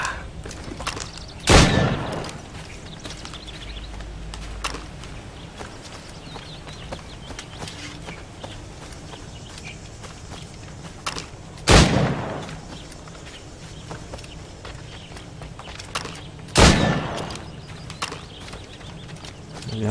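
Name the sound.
hip-fire gunshots in the video game Assassin's Creed Syndicate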